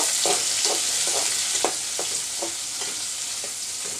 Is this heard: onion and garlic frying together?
yes